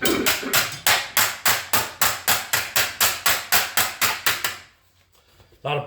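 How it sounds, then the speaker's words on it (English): A body hammer pounds rusty car door metal on a VIC100 project car in about sixteen sharp, evenly spaced, ringing strikes. After a brief pause, one more blow lands. "Get the proper body hammer."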